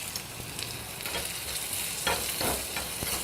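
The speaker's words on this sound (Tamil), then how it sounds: "சின்ன வெங்காயம் சேர்த்துக்கிறேன்." Cumin, asafoetida and small onions fry in a pan for a cashew nut kulambu, giving a steady close sizzle with stirring scrapes rising partway through.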